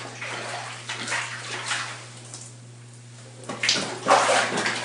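A handmade quilt being washed by hand in a tub of water, close sloshing and swishing that surges in bursts and eases between them, over a steady low hum.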